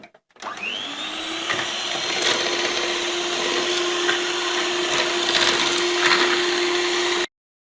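An electric mixer whips half a cup of sugar for day-and-night cookie dough, giving a steady high motor whine. It starts abruptly, holds evenly for about seven seconds, then cuts off, with no talking.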